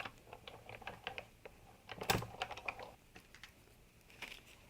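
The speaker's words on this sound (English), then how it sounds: "then you simply just roll that through the Big Shot machine" A Sizzix Big Shot die-cutting machine rolls a cutting sandwich through its rollers, giving a faint series of small clicks and ticks with one stronger crunch in the middle, quiet and close.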